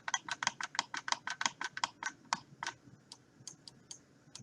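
Keys on a computer keyboard, including the shift key, are pressed in a quick run of about twenty crisp, close clicks while a terrain mesh is retopologized, slowing to sparser taps toward the end.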